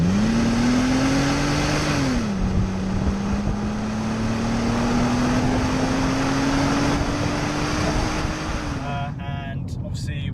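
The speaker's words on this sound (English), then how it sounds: "it's a 530i, so 3 litre petrol engine," A BMW E39 530i's 3-litre straight-six petrol engine runs steadily, its tone rising slightly and holding near and loud, then easing off near the end, with a voice talking over it.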